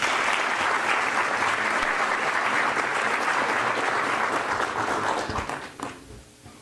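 Sustained applause from a crowd at a year-end ceremony fills the room, steady and dense, then fades out over the final second.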